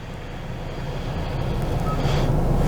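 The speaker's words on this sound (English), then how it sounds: "calm sea waves" Calm sea waves play as an ambient soundscape through the sound system of a 2021 Hyundai Santa Fe Calligraphy SUV, a soft, steady, swelling wash of noise heard inside the cabin.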